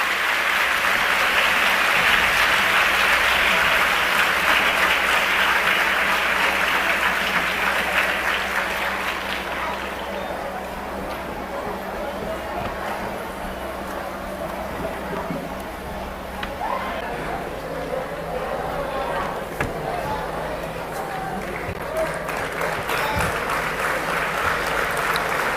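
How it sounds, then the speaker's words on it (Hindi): An audience at an inauguration ceremony in Delhi breaks into loud, sustained applause to welcome the Prime Minister, a dense wash of clapping that fades somewhat after about ten seconds and continues at a lower level with crowd murmur. "जोरदार तालियों से स्वागत करें माननीय प्रधानमंत्री जी का।"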